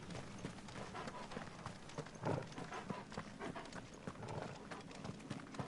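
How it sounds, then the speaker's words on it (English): Torgal, the wolf companion in Final Fantasy XVI, breathing loudly with a steady rhythmic panting mixed with soft footfalls, fairly close and moderately quiet against low game ambience. "Torgal, can you stop breathing so loud"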